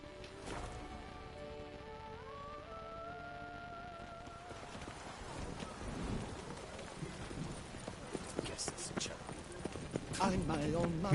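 Horse hooves clip-clop steadily in The Witcher 3, a rhythmic trot that grows louder toward the end, under game music and a voice talking.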